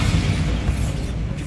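A Bombarda spell explosion in the Hogwarts Legacy video game, heard as a loud, dense boom that rumbles on for over a second.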